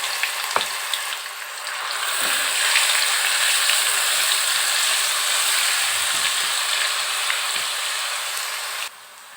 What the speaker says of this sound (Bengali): এবারে দিয়ে দেব পেঁয়াজ বাটা।